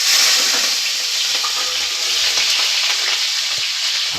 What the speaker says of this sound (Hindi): जीरा डाल दिया है मैंने और इसमें डाल दूंगी मैं हरी मिर्च।